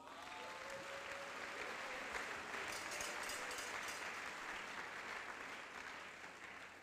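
A church congregation breaks into sustained applause, a dense, steady wash of clapping from many hands that swells slightly and then fades toward the end.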